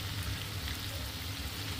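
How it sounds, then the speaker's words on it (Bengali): Lentil vadas frying in hot oil, a steady, soft crackling sizzle that continues evenly throughout, faint and close with no talking. "ধীরে আমি বাকি বড়াগুলোকেও তেলে ছাড়ব"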